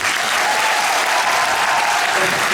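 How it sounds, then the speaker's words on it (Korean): A theater audience applauds loudly at the curtain call of the musical Winter Traveler, thanking the orchestra and conductors; thick, sustained clapping fills the hall close and unbroken. "진심으로 감사의 박수를"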